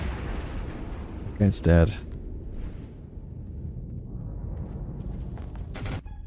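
Torpedo impacts on ships in the Starsector space combat game (Nexerelin mod): a couple of heavy booming hits over a steady rumbling game soundscape, with someone briefly speaking.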